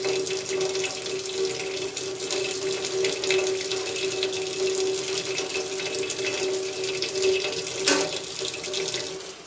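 Tap water runs steadily into a sink while an air conditioner drain tube is rinsed, a continuous close splashing hiss with a brief louder gurgle near the end and no talking.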